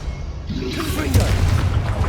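A deep, booming explosive spell blast from Hogwarts Legacy erupts and rumbles on for a moment, loud and close, with a voice in the mix.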